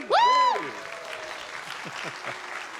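Audience applause at GalaCon, a pony fan convention, opening with one loud rising whoop before steady clapping from a seated crowd continues at an even level.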